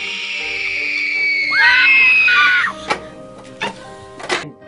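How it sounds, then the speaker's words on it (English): A long, shrill, wavering scream, loud and close, breaks off into several sharp knocks and clatters, with a steady hum underneath. "not only is she having a screaming fit"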